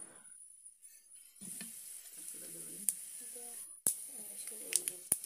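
Onion, dried red chili and mustard seeds fry in hot oil, a steady close sizzle with scattered sharp pops and spatters and a few clinks of stirring, while a voice talks over it.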